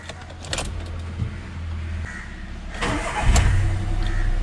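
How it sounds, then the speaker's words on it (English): A used Volkswagen Ameo petrol engine cranks and catches, then settles into a steady low idle, preceded by a few clicks and clunks from inside the car. "let's quickly start up this car"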